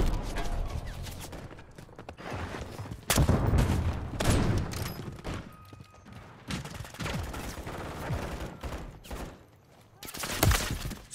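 Dense gunfire in a team deathmatch video game, bursts of loud shots and rattling mechanical clatter scattered irregularly throughout, with a voice shouting briefly amid the firing.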